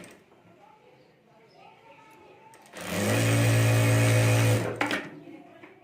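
A sewing machine runs in one steady, loud burst of about two seconds, stitching along a zipper on a homemade handbag, with quieter handling and room noise before and after.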